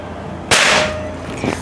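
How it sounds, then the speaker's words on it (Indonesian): A single sharp, loud crack from a Predator OD 38 PCP air rifle firing a pellet, with a brief decaying tail afterward. "Kita tadi udah memasukkan mimisnya, kita tinggal untuk nembak ya."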